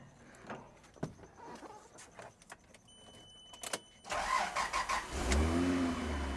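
A Toyota 80 Series Land Cruiser engine, newly installed, cranks and catches on its first start, settling into a loud, steady idle with rising revs after a stretch of quieter clicks and garage clatter.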